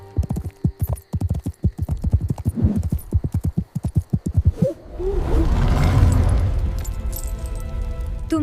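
Cartoon horse hooves galloping in a rapid, steady clip-clop rhythm for several seconds, then giving way to a loud rushing roar with faint jingling.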